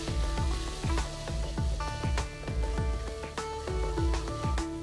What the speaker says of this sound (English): in this ghee, a tablespoon of ginger paste and a tablespoon of garlic paste, and just saute it for a minute